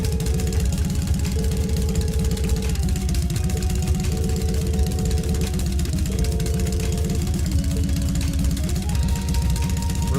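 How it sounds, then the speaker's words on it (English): A video-game vehicle with an internal combustion engine idles in a steady, loud, low rumble with a fast knocking pulse, joined by a sustained mid-pitched tone that steps between pitches throughout. "Why does it sound like it has an internal combustion engine?"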